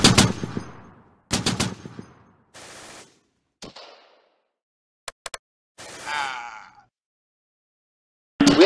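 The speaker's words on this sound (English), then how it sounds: "We're under heavy fire." Bursts of machine gun fire from the Close Combat war game ring out in short loud volleys separated by gaps, with shorter single cracks and a rattling burst later, mixed with game effects.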